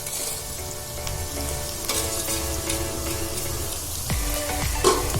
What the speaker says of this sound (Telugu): ఇది బాగా బ్రౌన్ అండ్ కలర్ వచ్చేదాకా వేగనివ్వాలండి